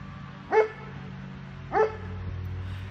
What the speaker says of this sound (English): She doesn't usually bark when I'm out here.